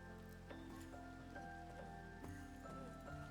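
Steady rain in Minecraft, a continuous hiss of falling drops mixed with faint game tones and soft plucked musical notes, no voices.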